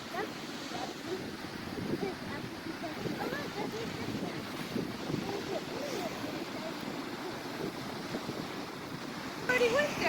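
Ocean waves wash steadily onto a beach at night, a continuous soft roar of surf with some wind buffeting the microphone, heard alone at a moderate distance.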